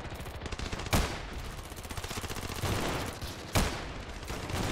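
Sustained automatic gunfire in the Ravenfield battle simulator during a bridge compound fight, a dense rattling stream of rapid shots with a few louder bursts standing out.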